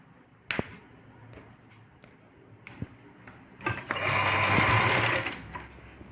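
A sewing machine stitches blouse fabric in short taps, then runs in a sustained whirring burst lasting about a second and a half, close up.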